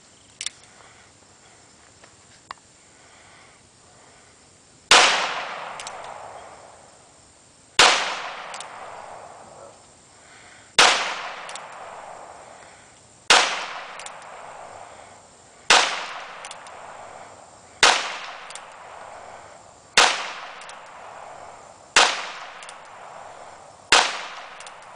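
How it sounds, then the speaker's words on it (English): Ruger Single-Ten .22 Long Rifle revolver with fiber optic sights fired outdoors: ten sharp, loud shots spaced about two to three seconds apart, each trailing off in a short echo, after two faint clicks. "These are the first shots through it."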